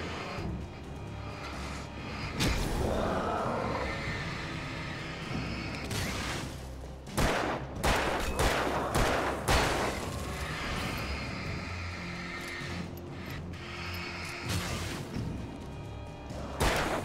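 Gunfire and combat effects from the Alan Wake video game: sharp, loud shots and crashing impacts burst irregularly over a rumbling, noisy game soundtrack.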